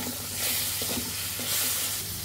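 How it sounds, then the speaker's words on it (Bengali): Spice paste with a little water is stir-fried in a pan for a cucumber and egg curry, giving a steady close sizzle with soft scraping strokes of a spatula and no voices. "খুব সামান্য পরিমাণ মতো জল দিয়ে কষিয়ে নিতে হবে যাতে মশলাটা পুড়ে না যায়"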